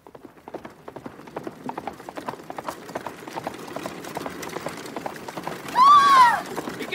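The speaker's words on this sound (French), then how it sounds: "Des chevaux emballés!" Runaway horses pulling a carriage gallop in a fast, busy clatter of hooves and rattling wheels. A shouting voice rises over the racket near the end.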